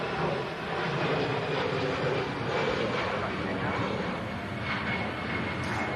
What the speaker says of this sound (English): EasyJet departs.